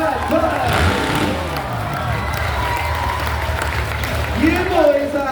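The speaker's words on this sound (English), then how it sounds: "Would you please put your hands together for Mr. Brad Putt?" Crowd applauding and cheering for a freestyle motocross rider at an Australian show, steady loud clapping and shouts throughout with voices mixed into the noise.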